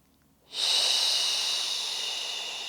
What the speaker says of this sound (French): On n'hésite pas à faire du bruit avec sa respiration.